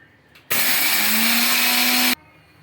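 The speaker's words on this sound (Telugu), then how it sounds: "ఇప్పుడు బాగా తడి ఆరిపోయిందండి, నేను మిక్సీకి అయితే పట్టుకుంటున్నాను" A mixer grinder grinding dried rice whirs loudly for about a second and a half, starting and stopping abruptly, its motor pitch rising slightly as it runs.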